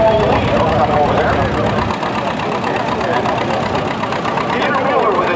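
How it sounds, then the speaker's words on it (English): A John Deere tractor engine at a 2011 tractor pull competition, roaring steadily and loudly throughout as it works down the track, with an announcer talking over it. "his John Deere 8, working his way down the track on this side."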